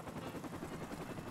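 A video game helicopter hovering nearby, a steady dense rotor drone with no pauses, fairly quiet and heard alone without talk.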